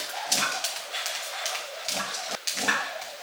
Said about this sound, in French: Il y a le chien qui s'excite.